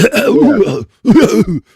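A deliberate, staged cough or throat clearing, two short rasping bursts close to the mic separated by a brief pause.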